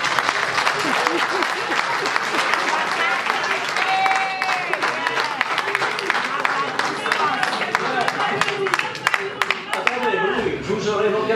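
An audience at a political evening gathering applauds with continuous dense clapping, mixed with crowd voices, whistles and cheers throughout.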